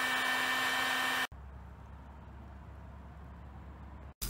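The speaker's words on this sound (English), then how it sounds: "use the heat gun here to make them look good again" Heat gun warming faded plastic side mirrors from a Porsche 944, a steady loud blowing hiss with a constant tone that cuts off abruptly, leaving a low hum, then restarts at the end.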